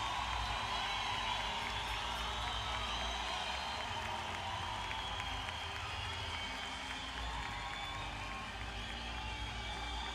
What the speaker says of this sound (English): British girls, warm applause for their opposite numbers.